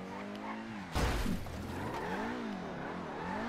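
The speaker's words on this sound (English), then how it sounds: "So what I'm going to do instead is I'm going to park my car up here." A car driven in GTA 5 revs with a wavering engine pitch, a sharp skidding screech hitting hard after about a second, and the motor keeps droning and rising and falling as it settles, loud and near, with no one speaking.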